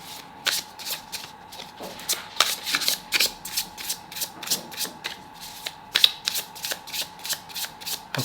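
Repeated crisp riffles of a deck of tarot cards being shuffled close by, in quick bursts with short pauses between them.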